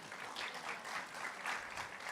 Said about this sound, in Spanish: Un aplauso para Santiago, por favor.